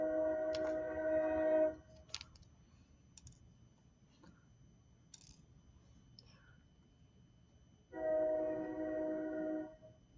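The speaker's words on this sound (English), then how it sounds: "There comes the train." A passing train sounds two long, steady horn blasts, the second about six seconds after the first, with only faint clicks and soft rustling in the quiet between them.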